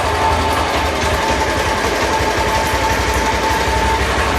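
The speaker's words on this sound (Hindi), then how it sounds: "और अभी भी आप मेरी मोटरसाइकिल की जो आवाज़ है वो सुन पा रहे होंगे" A Bajaj Pulsar 150 motorcycle idles with a kill switch fault that fails to stop the engine, producing a steady, close, continuous rapid engine putter with no pauses.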